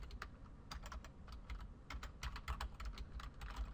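Rapid, steady typing on a computer keyboard, close and clear, with uneven bursts of key clicks running throughout and no voices.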